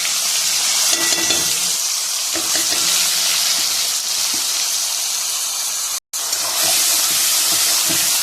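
Ginger, garlic and onion paste frying in a hot pan over lowered gas, a loud continuous hiss and sizzle with faint stirring taps, cut off by a brief moment of silence before resuming.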